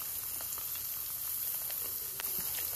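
Minced meat frying in a pan with chopped onion, chilli, ginger-garlic paste and ground cumin, giving a steady broadband sizzle with small crackles and spatters, close and continuous, with no voices.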